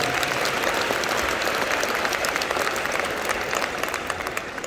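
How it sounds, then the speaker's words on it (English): An outdoor citizenship ceremony crowd applauds the Royal Australian Navy Band, a sustained dense clapping that stays strong before tapering slightly toward the end, with no talking. "So give them a round of applause too"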